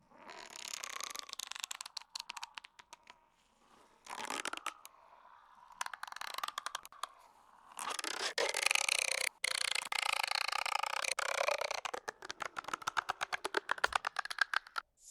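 A Barbie doll sound reshaped with a Morph EQ effect comes out as dense rattling, clicking texture in bursts, like rapid tapping and creaking, fairly quiet and with no voice.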